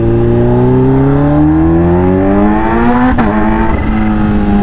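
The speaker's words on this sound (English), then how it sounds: "this bike is an animal. Like, I don't even need to give it a quarter throttle for it to like unleash." Kawasaki Ninja H2 motorcycle accelerating hard, its engine note climbing steadily through the revs, loud and close, with a sharp gear shift near the end before the pitch rises again.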